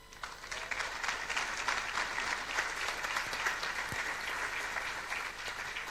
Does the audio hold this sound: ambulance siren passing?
no